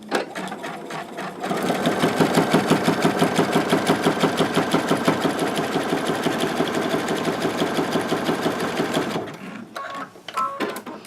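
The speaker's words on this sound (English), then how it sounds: "set your machine for a zigzag stitch. And all you're going to do is zigzag right down this edge" A sewing machine runs a zigzag stitch down a fabric edge, its needle clattering in a fast, steady rhythm for about eight seconds, close and loud, then stopping and leaving a few soft handling sounds.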